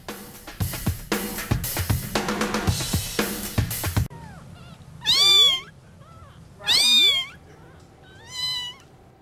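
Helpless two-week-old kittens, rescued after being trapped under an apartment building, give three loud, drawn-out, high meows with pauses between them, following a few seconds of unrelated louder sound.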